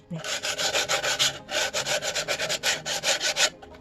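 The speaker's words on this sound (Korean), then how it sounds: "절단면, 그리고 모서리 부분 좀 부드럽게 사포질을 합니다." Steady back-and-forth rasping of sandpaper smoothing cut edges and corners of a solid-wood tray made from scrap wood, close and rhythmic, with quick regular strokes and a brief pause partway through.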